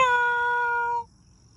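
A single drawn-out kitten meow, clear and close, with bright harmonics holding steady for about a second before cutting off into quiet room noise.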